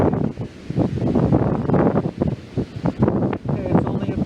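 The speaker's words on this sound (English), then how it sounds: "Now what I'm hearing when I look directly at the wind, both mics in the ears are kind of getting blasted a little bit." Wind buffets a pair of in-ear microphones on a hearing-protection headset outdoors at about 8 mph, producing steady low rumbling gusts that rise and fall throughout.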